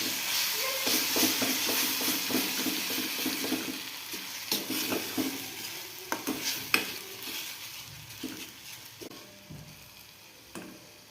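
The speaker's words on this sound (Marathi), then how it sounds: "जिरा आणि मोहरी तडतड वाजली की आपण त्यात टाकूया आपण केलेली 1 चमचा चटणी" A spoonful of raw mango chutney hits hot oil with spluttering cumin and mustard seeds and curry leaves, giving a close, crackling sizzle broken by scraping stirs and sharp pops, with no talking.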